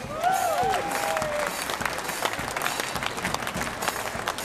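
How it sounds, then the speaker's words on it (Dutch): Applause breaks out at the Breda Jazz Festival opening for Barbara Kanters: a crowd claps loudly and steadily, and a few brief whistles rise early on. "Hartelijk applaus voor haar."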